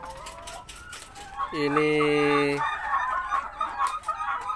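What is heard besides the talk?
laying hens clucking on a poultry farm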